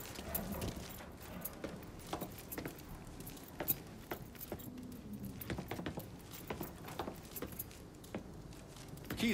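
Keys are grabbed in the Mafia III video game, giving a scattered series of small metallic jingles and light clicks over a busy background of soft patter and movement, with no talk.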